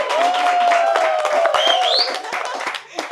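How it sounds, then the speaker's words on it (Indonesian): An Indonesian audience claps for the cast of a short film, with a steady burst of applause mixed with voices and a whistle-like tone over the clapping. "Tepuk tangan dulu dong."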